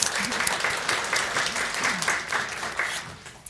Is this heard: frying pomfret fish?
no